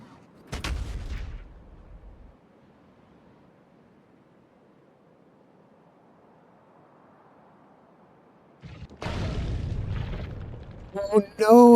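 Artillery in Factorio: a heavy booming blast fades into a long low rumble, then after a lull another roaring burst of explosions arrives, followed by a few sharp closing hits.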